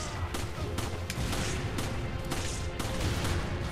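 Dense gunfire and explosive blasts in the Resident Evil 5 video game, a dynamite carrier among enemies, with loud rapid shots and booms layered continuously throughout, no pauses.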